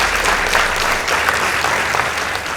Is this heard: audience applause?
yes